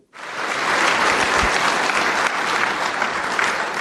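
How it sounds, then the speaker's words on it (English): A sudden burst of full, loud audience applause for podcast panel guests, starting abruptly and holding as a dense, steady roar of clapping. "That applause was for you guys"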